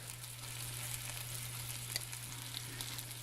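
Beef pieces browning in a single uncrowded layer in a stew pot give a steady, moderate sizzle and fry hiss with a low hum underneath and a few faint ticks, no voices.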